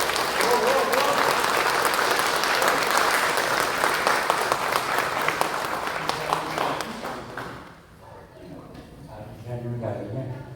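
Audience applause welcoming a company chairman to the stage for a humanities lecture, dense steady clapping that fades out after about seven seconds, leaving a voice speaking alone.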